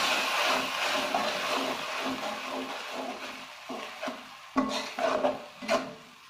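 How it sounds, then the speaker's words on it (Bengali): A spoon stirs and scrapes onion paste around a pan for tilapia curry. It sizzles gently and rubs steadily up close, ending with a few sharper knocks and scrapes against the pan. "এবারে দিয়ে দিলাম পেঁয়াজ পেস্ট। একটু ভালোভাবে মিশিয়ে নেব।"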